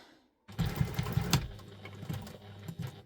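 A sewing machine top stitches a wallet, starting abruptly and whirring close by in a short, uneven run of stitches with a few sharper mechanical knocks.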